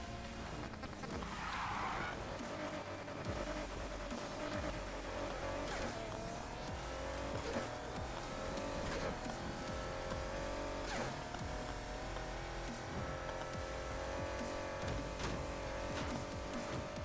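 A 1,000-horsepower V6 car engine in the racing game Need for Speed Heat drones steadily throughout, with shifting engine pitch, brief tire squeals and revving over continuous game sound.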